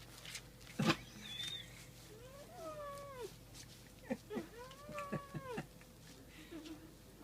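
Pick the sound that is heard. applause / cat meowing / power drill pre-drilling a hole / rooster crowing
cat meowing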